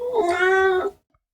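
A cat character in an animated film, a cat named Blanket, lets out one long, drawn-out, whiny meow at close range, then the sound cuts to silence.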